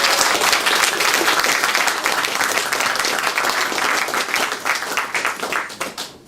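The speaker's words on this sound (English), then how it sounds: "Round of applause, please." A lecture audience breaks into sustained applause, a dense, even wash of many hands clapping that carries on for several seconds before beginning to thin out near the end.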